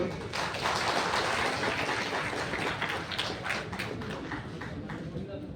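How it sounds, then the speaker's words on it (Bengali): Dense, sustained clapping from an audience at a Durga Puja grant ceremony, broad and continuous crowd applause that carries on steadily and fades slightly toward the end. "জোরে হাততালি হোক"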